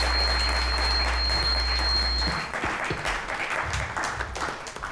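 An audience at a book launch reading applauds, a dense round of clapping over a low electrical hum that cuts out midway, after which the clapping continues more sparsely and tapers.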